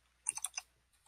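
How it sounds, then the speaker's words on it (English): A handful of quick, faint computer keyboard key clicks sound in a short burst, close by in a quiet room. "I typed in someone duplicated my Instagram account. Hit enter."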